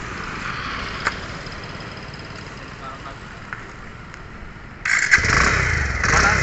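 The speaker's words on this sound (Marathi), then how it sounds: "हे बघा इंजिनचा आवाज ऐकू येतो" A 150 cc Pulsar motorcycle with about 30,000 km on it, in good condition, runs at a low steady idle close by, then its engine note rises and grows louder near the end.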